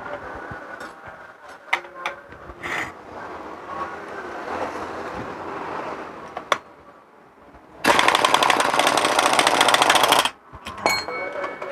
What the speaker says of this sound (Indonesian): akan saya lakukan pembukaan bautnya ini